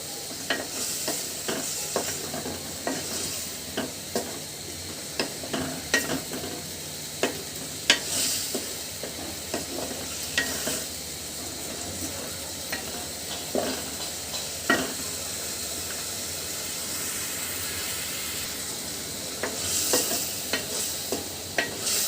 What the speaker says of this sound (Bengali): মশলা এবং টমেটো খুব সুন্দর করে আমি কষিয়ে নিব